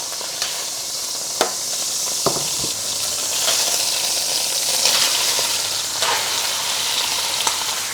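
Beef rouladen brown in a hot frying pan, a steady close sizzle with scattered sharp crackles and pops, with no talking.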